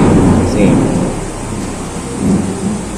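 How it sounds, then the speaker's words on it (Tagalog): Heavy rain with rolling thunder during a storm, a loud continuous roar of downpour with low rumbles swelling near the start and again toward the end, no voices. "malakas kasi po yung ulan, may kulog-kidlat pa, kaya medyo maingay"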